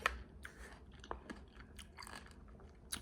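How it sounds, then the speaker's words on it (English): Close, crisp bites and chewing of juicy watermelon flesh, with a few sharp crunches scattered over a few seconds against a quiet background. "So continue to eat your watermelon"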